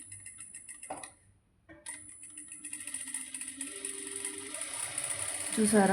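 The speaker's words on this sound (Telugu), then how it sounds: "ఇది మనకి ఇటువైపు హోల్డ్ చేసినప్పుడు మాత్రమే ఈ థ్రెడ్ అనేది చుట్టుకుంటుంది" A home sewing machine winds thread onto a bobbin with a steady, close mechanical whir that pauses briefly and then resumes, while a person talks over it.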